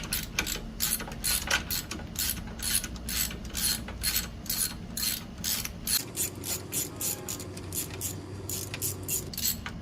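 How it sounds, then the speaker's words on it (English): A hand ratchet with a 10mm socket turns bolts on a Troy-Bilt Bronco engine, making a steady run of rapid close clicks that pause briefly around the middle and then carry on alone. "remove our bolts guys with our 10mm socket and ratchet"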